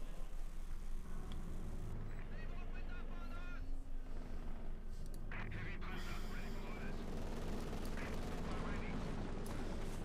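A Maxim machine gun fires amid a World War II battle in Company of Heroes 2, bursts and distant artillery thuds mixed into a dense, continuous battlefield din.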